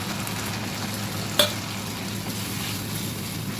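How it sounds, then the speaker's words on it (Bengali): Chicken curry frying in a pan gives a steady, close sizzle throughout, with one brief sharp tap partway through and no talk. "অল্প একটুখানি জল দিয়ে দেবো"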